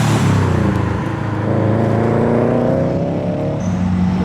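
A tuned Japanese car pulls away from the Japfest 2023 show in the UK, its engine revving loud and close with a rising, throaty drone that holds steady for several seconds.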